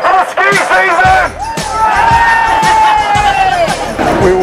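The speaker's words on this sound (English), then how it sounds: "Can I get a cheer for the ski season?" Crowd at a Queen Street hikoi march raises a loud, sustained cheer with whoops and rising shouted voices, dense and close throughout.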